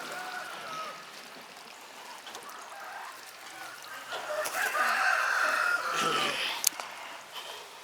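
A prized Sankranti fighting rooster clucks in bursts over a steady, noisy outdoor background, growing louder midway, with a sharp click near the end.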